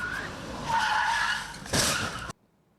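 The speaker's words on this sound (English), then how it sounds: "The car slammed into a minivan while the reporter was interviewing a neighbor about a different story." A car skids on pavement and slams into a minivan in a Milwaukee hit-and-run: a broad rushing skid swells, then a sharp loud crash bursts near the end before the sound cuts off abruptly.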